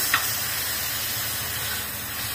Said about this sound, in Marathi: तर 2 मिनिटं अशीच वाफवायची होती भाजी.